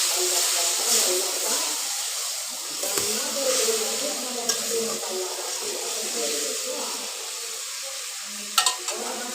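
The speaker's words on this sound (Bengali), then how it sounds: "এর মধ্যে হলুদ লবণ মরিচ দিয়ে দিলাম অল্প পরিমাণ একটু জল দিয়ে দিলাম মশলাগুলো ভালো করে ভেজে নেবে" Spices with turmeric, salt and chili fry in a pan with a splash of water for a fish head dish, giving a steady close sizzle and hiss with occasional stirring clatter throughout.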